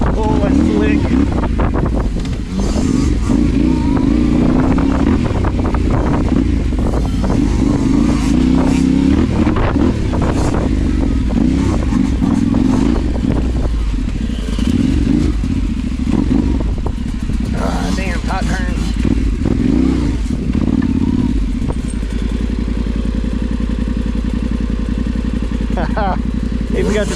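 Dirt bikes on a single-track trail, a Yamaha YZ65 and a larger Yamaha Tenere 700, with loud, steady engine drone and rising revs mixed with wind buffeting on the microphone throughout, easing in the final seconds.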